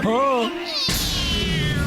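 A cartoon cat from the Motu Patlu animated series meows loudly in a close, sliding cry, followed at once by a higher, brighter second wail that holds steady to the end.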